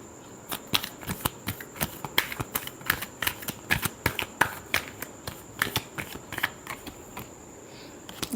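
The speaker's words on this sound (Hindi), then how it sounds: "Last shuffle." Tarot cards being shuffled by hand, a close, quiet series of crisp riffling snaps in an even, fairly rapid rhythm with brief pauses between bursts.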